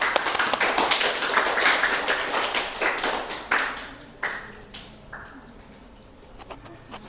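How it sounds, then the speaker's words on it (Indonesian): Classroom applause for students, a burst of many hands clapping that starts dense and loud and then thins out into scattered claps before fading to a few stray taps. "Tepuk tangan buat semuanya."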